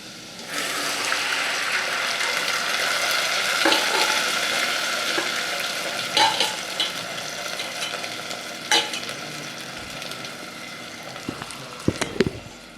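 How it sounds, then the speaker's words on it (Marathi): Boiled black peas dropped into crisp-fried onions in a hot pan, a steady broad sizzle running throughout with a few clattering thumps and scrapes near the end, no voices. "कांदा कुरकुरीत झाल्यावर त्यामध्ये उकडलेले काळे वाटाणे टाकूया."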